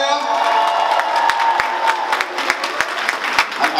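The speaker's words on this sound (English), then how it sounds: "Clap it up for yourselves." Comedy-club audience in Lauderdale applauding and cheering, a sustained crowd clap with scattered sharp individual claps and a few whoops over a continuous bed of noise.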